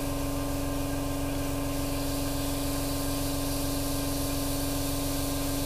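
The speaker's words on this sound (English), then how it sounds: "we're just spraying 90 degrees straight down, cutting to air to dry off a bit" Airbrush spraying paint on a Hasegawa 1/32 scale P-40 model plane, a loud continuous hiss with a steady underlying hum from the compressor, unbroken and close with no speech.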